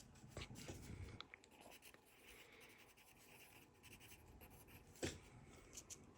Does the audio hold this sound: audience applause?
no